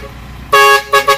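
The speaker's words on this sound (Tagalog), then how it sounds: "Yan yung air horn mga kabisyo." A vehicle air horn driven by a stock Jet Inoue compressor, on a chrome-finished truck unit, blasts loud and close: one long sustained honk, then two short toots in quick succession.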